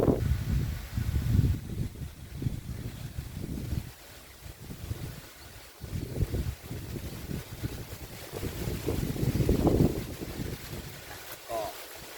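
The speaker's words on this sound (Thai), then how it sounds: "วันนี้ของผมเนี่ยลมแรงเนาะ ลมจะพัดแรงนะครับ" Strong wind blows around a shrimp pond on a farm, buffeting the microphone in loud, gusty rumbles that swell and ease, with someone speaking intermittently underneath.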